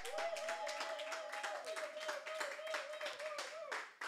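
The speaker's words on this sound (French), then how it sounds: "Acclamons très fort pour le roi des rois." A church congregation at a Sunday service claps steadily in rhythm for a few seconds, mixed with voices and a sustained tone, fairly quiet and even throughout.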